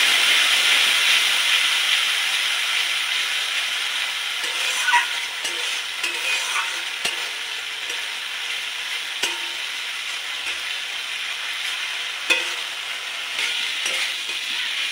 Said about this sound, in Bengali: আমি এখন একটু জল দেব, মশলাটা যেন ভালো করে কষানো হয় তাই একটু জল দিলাম।